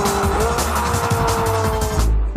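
Sports car with nearly 500 horsepower, capable of 0 to 100 km/h in three and a half seconds, squealing its tires loudly and continuously under a roaring engine, close by and alone.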